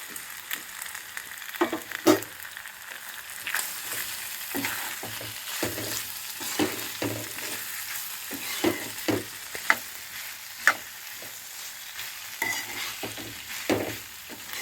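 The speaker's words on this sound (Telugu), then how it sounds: "ఆలుగడ్డ ముక్కలు వేస్తున్నా దీంట్లో" Potato pieces fry softly in a pan, with a low continuous sizzle broken by repeated scraping and clacking strokes of a stirring spoon, close and fairly quiet, no voices.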